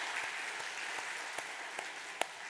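A church congregation at a Sunday service applauds, a soft, steady patter of many hands with a few sharper individual claps standing out, heard from a distance.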